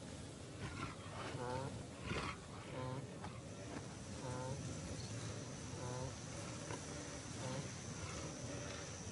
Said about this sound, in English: A lion, alerted by the noises, emerges from a thicket.